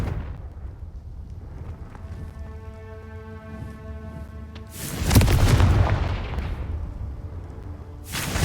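The Confringo blasting spell explodes in the video game Hogwarts Legacy, one loud booming blast with a rumbling tail, followed by another sharp burst at the very end, no talk.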